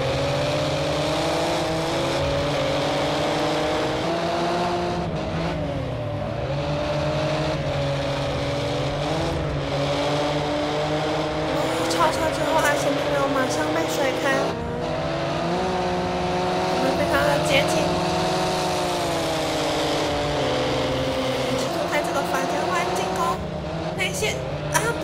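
Group A race car engines roar continuously in Project Cars 2 at Texas Motor Speedway as cars overtake, their pitch rising and falling under steady excited commentary.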